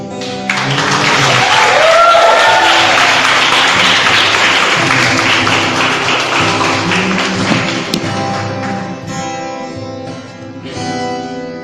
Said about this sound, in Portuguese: Então, uma grande salva de palmas também ao Senhor.